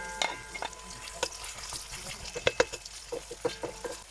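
Onions frying in hot oil in a cauldron, a soft steady sizzle with quick scraping stirs and light clicks from a utensil against the pot, close and fairly quiet with no speech.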